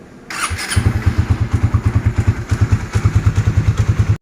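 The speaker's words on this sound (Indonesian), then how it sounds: "sekarang kita running lagi 10 menit aja buat ngebilas sisa-sisa engine flush yang masih ada di dalam mesin" A Suzuki Satria motorcycle engine runs steadily during an engine oil flush, giving a rapid, even train of low thumping exhaust pulses up close, loud and alone with no voices.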